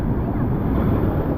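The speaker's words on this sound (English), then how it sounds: "Oh, see them waves, man." Ocean waves crash and wash steadily through a splash zone on the shore during a king tide, a loud continuous surge of water roughened by wind buffeting the microphone.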